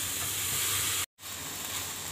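Chicken simmers in milk on a low flame, a steady soft sizzle and hiss broken by one brief moment of silence, close and without talk.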